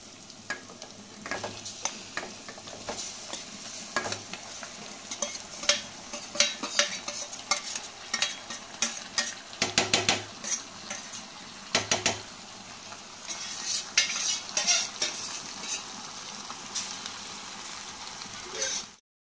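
Onions frying for chicken curry in a pan, crackling and sizzling loudly while a utensil repeatedly scrapes and clatters against the metal in busy bursts, with a brief quiet stretch near the end.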